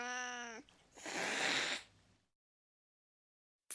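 Angry black-and-white kitten gives a short meow followed by a loud, harsh hiss, then silence.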